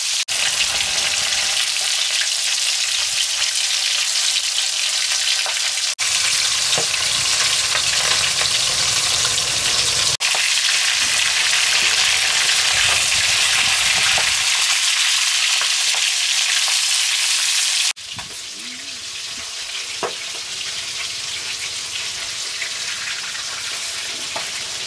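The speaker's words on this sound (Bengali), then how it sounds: "4 পিস করে মাছ ভাজে দাও, আমি ভাজি বলছি।" Fish pieces frying in oil in a home kitchen pan, a loud continuous sizzle and crackle with several abrupt shifts as the pieces are moved or turned, no voices over it.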